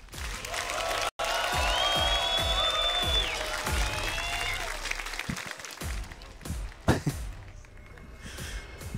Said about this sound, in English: make some noise for Shopify Rebellion's Byun.